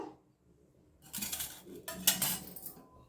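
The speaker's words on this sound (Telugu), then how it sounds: "ఇప్పుడు స్టవ్ ఆన్ చేసుకొని ప్యాన్ పెట్టుకున్నాను" A metal pan is set onto a stove with a clattering metallic clank and scrape after a quiet moment, followed by a few more rattling knocks, close and fairly faint, with no voices.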